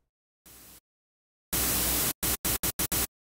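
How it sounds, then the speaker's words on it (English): A white-noise tail built in the Xfer Serum synth for a drum sound: one short hiss burst, a pause, a longer burst, then five quick chopped bursts in a stuttering rhythm, each cut off cleanly into silence. "And we'll do that with white noise."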